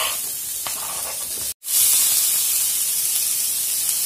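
Onions sauté in hot oil for road-side masala puri, a steady close sizzling hiss that drops out for an instant, then returns brighter and keeps going, with no one talking.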